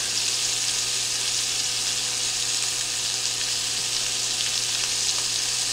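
Beef roast searing in a hot pan for shredded beef tacos, a steady, even sizzle that holds at the same level throughout without pauses or voices.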